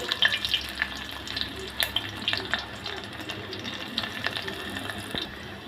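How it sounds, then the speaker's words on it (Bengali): Crackling, hissing sizzle of chopped garlic and onion frying in hot oil with whole cumin, close and continuous, with faint clicks and pops scattered throughout. "রসুনটা কিন্তু ভাজা ভাজা হলে আমি এর মধ্যে দিয়ে দেবো ডাল"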